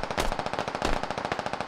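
Rapid automatic gunfire in the video game Squad: a dense, continuous burst of close, loud shots in a fast steady rhythm with no talking.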